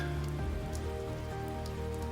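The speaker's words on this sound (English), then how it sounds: "the soft rain drops, pattering down on you" Soft rain patters steadily on a surface, a dense even wash of drops with occasional slightly louder taps, continuous and alone.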